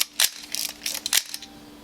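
A film camera clicks through shutter release and film advance: several sharp, close mechanical clicks and ratcheting snaps in quick, uneven succession, with no talking.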